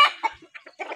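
Golden Misri hens and roosters on a poultry farm clucking in short, uneven bursts, close by, with brief quiet gaps between the calls.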